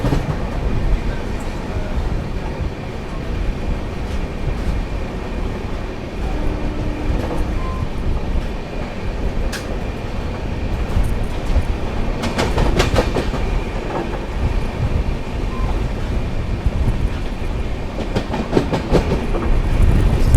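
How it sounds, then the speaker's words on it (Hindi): The Garib Nawaz Express, running from Ajmer toward Bangalore, rolls in on the rails with a continuous rumbling roar and rhythmic clickety-clack of wheels over track joints, sustained for about twenty seconds. "देखिए वो आ रही है गरीब नवाज एक्सप्रेस"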